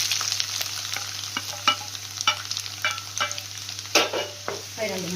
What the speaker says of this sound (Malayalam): ഇനി നമുക്കതിലേക്ക് 50 ഗ്രാം മിച്ചം വെളുത്തുള്ളി, അതുപോലെ തന്നെ ഇഞ്ചി,